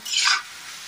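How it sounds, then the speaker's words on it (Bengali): A short burst of hissing sizzle as potatoes hit hot oil for deep frying rises and fades within a second, followed by a quiet steady background. "আর এদিকে আলু ভাজা চলছে আর কি।"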